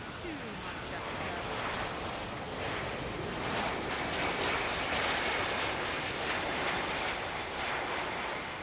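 A Royal Jordanian airliner arriving at Manchester Airport from Amman, a steady broad jet roar at moderate distance with wind buffeting the microphone, and a voice talking over it.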